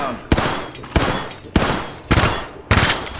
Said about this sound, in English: Taking fire! Reloading! Firing! Shoot him down.